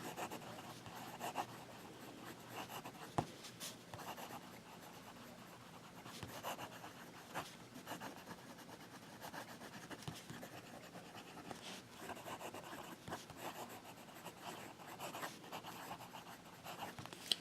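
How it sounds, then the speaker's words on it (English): A pen scratches quickly across paper, a quiet, steady scribbling with irregular strokes and small taps, heard close up with no talking. "Fast writing."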